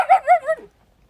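A dog gives three quick close whimpering barks at home as food pellets hit its bowl, each yelp rising and falling over about half a second, then silence.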